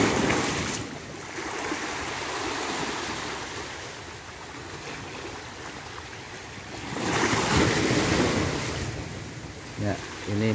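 Gentle ocean waves wash onto the sandy shore of Pulau Panjang beach in the morning, a continuous soft surf that swells twice into fuller breaking rushes, with faint breeze and a brief distant voice near the end.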